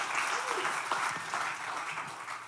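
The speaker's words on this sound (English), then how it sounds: "give that guy, our pastor, Alex Gallion, a big round of applause" A church congregation gives a pastor a round of applause: dense, steady clapping from a large crowd fills the room throughout.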